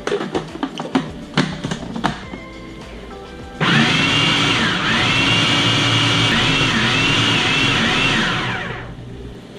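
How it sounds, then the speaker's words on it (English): A blender whirs steadily through a thick chocolate coconut snack-bite mixture, loud and continuous for about six seconds after a few brief taps and clatters at the start, then winds down. "And blend. Use your spoon to push it down."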